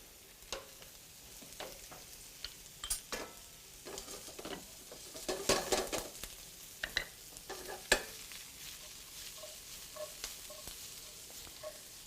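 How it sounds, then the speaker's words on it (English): Chopped garlic and onion sautéing gently in a pan, a soft steady sizzle broken by scattered clicks and scrapes of stirring, close and moderately quiet, with no voices. "we don't want to color up the garlic and the onion"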